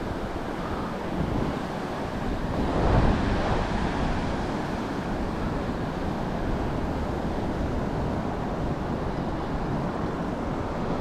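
Ocean surf rolls onto the shore at Rockaway Beach, Oregon, a steady, loud wash of breaking waves with wind buffeting the microphone and a slightly bigger swell surging near the start.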